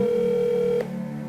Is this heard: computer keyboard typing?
no